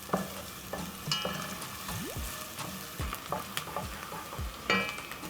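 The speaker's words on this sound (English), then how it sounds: "Then I'm going to stir in my onions. Cook until soft." Onions frying in a pan over a medium flame while being stirred, a steady sizzle broken by repeated scraping and clacking of the utensil against the pan.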